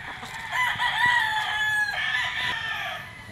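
A Kelso gamefowl bull stag at a gamefarm lets out a single loud, close crow lasting about three seconds, rising and then trailing off, with faint farm noise behind it.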